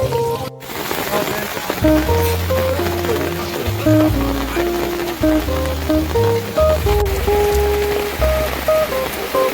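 Steady rain hisses across the whole stretch at Vandri Lake in Palghar, mixed with loud melodic music playing over it.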